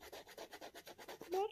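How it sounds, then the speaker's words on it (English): A resin coaster with holographic glitter is sanded by hand in quick, regular back-and-forth strokes, a soft, close rasping rhythm of about ten passes. "Let's just sand it a bit now."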